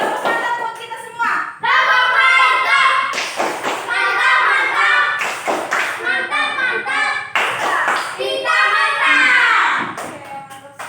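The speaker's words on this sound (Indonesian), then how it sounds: "Tepuk tangan buat kita semua" Children in a classroom clap their hands together in a burst, with claps and thumps mixed under lively voices and a teacher talking throughout.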